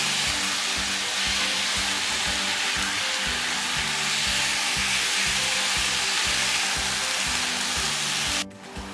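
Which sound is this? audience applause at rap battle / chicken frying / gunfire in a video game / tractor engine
chicken frying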